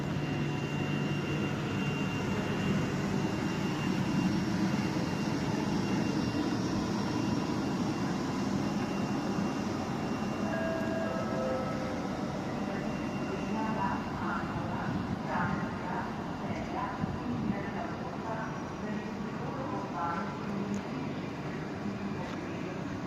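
A steady, loud rumble of a Slovenian Railways ICS high-speed intercity train running, with a broad continuous roar and faint tonal whines, and voices murmuring faintly underneath throughout.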